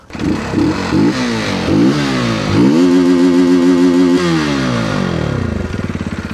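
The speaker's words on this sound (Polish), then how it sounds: "Ale silnik pracuje czyściutko, ładnie, równo." A Junak RX ONE 125cc adventure motorcycle engine runs close by, revving up and settling into a steady, even drone with a faint rhythmic clatter.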